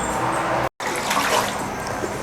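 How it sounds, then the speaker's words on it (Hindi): Water pours into a pot of meat with a steady splashing rush, briefly cut by a moment of silence, then resuming at a strong, close level. "पानी हमने डाल दिया"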